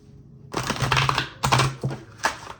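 Tarot cards being shuffled by hand come through as a few close, crisp riffling bursts of rapid clicking flutters separated by short pauses, with no one speaking.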